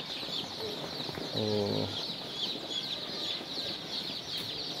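Chicks at a hatchery cheep in a dense, continuous high-pitched chorus close by, with a short harmonic call from a nearby adult bird partway through and a brief word from a person.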